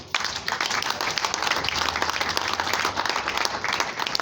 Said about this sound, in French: On applaudit les mariés.